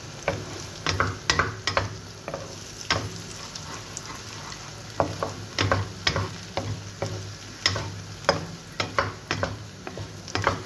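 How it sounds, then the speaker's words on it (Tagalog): Fried rice with garlic and egg being stirred in a pan, repeated sharp spatula scrapes and clinks over a soft steady sizzle, close by and without talk. "Para habang naluluto yung bawang, naluluto yung itlog. Mix natin."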